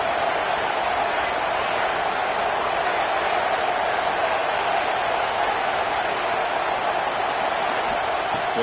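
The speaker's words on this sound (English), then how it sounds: "listen to this crowd noise. This stadium is vibrating." A packed stadium crowd at a football game roars in a dense, unbroken wash of noise that holds loud and steady from start to finish, with no clear voices standing out.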